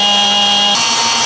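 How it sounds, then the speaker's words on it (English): A power drill bores pilot holes into a truck fender on a Toyota Tacoma during a snorkel install, a loud steady high whine that shifts pitch partway through the short burst. "As you can tell, the pilot holes are drilled out."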